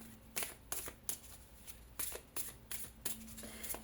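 Playing cards being shuffled in several quick riffling bursts, close and fairly quiet, with short pauses between each burst and no talking.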